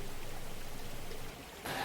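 A mountain stream flows in a wild nature reserve on Mount Dalnia, a steady broadband wash of water running close by without pause.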